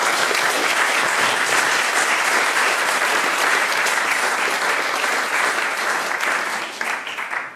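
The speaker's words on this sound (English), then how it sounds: "I just wanted to quickly give a round of applause to everyone in the lab that's done that" A room of people breaks into sustained applause for a lab team, dense steady clapping that carries evenly before thinning out near the end.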